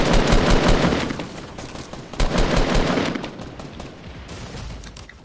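Rapid automatic gunfire rattles loudly and close in a squad shooter game, two dense bursts separated by a brief pause before the shooting thins out and fades.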